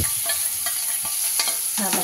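Green chilli, coriander and curry leaf paste sizzles and spits in a hot pan while being stirred, a steady close frying hiss with short scraping bursts of the spoon throughout, no voices.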